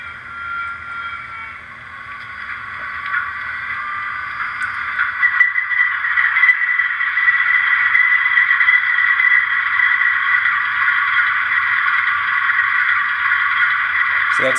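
A KCS MAC model locomotive's sound decoder runs its engine startup, a steady droning diesel rumble that swells after a few seconds and then holds at an even level, heard close with no talking.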